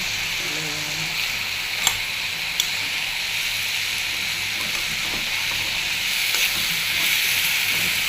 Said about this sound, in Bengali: ভাজি করতেছি।